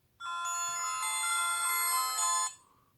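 Ringtone alert from a Willful smartwatch: a bright, steady electronic melody with sustained harmonic tones, sounding continuously for about two seconds at moderate loudness, then cutting off cleanly.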